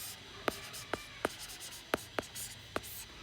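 Handwriting with a pen on paper during a class 10 maths lesson on circle angles: six crisp, separate tapping strokes spaced irregularly, close up over a steady background hiss.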